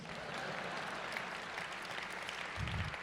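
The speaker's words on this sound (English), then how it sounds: "let's clap it up for these freaks." An audience at the SXSW 2014 keynote applauds in a steady, dense wash of many hands clapping. It stays fairly soft and even for the whole stretch and has no talk over it.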